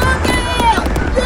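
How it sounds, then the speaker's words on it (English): Fireworks during a Fourth of July celebration, a steady wash of crackling bursts and booms over a lively, cheering crowd, with people shouting nearby. "they cue the fireworks."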